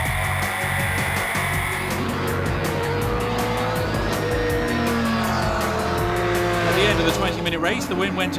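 A 1980s Group C sport prototype endurance race car roars past at the Spa circuit with a loud, sustained engine note rising and falling, accompanied by a commentator talking throughout.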